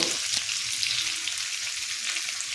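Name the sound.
onions and dried chilli frying in a pan for prawn malaikari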